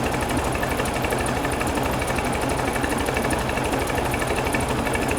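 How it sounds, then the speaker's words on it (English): A 1969 VW Beetle engine idles cold and a little shaky, a steady rapid mechanical chatter held close and constant throughout with no voices. "I'm already at 10 advanced with it idling"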